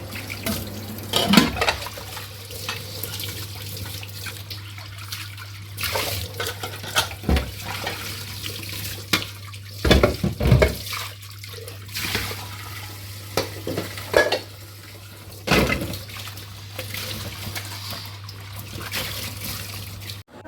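Dishes being washed at a home kitchen sink, with running tap water, intermittent clatter of pots and plates, and a steady low hum underneath throughout.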